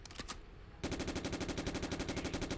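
Automatic gunfire from a gun in the PC video game Jonathan Kane: The Protector, a loud rapid even burst of shots that starts after a brief lead-in and continues to the end.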